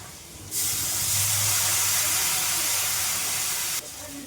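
Water hits a hot pan of cauliflower, potato and fish curry with a sudden loud hiss that holds steady for about three seconds, then cuts off, leaving quieter kitchen sound.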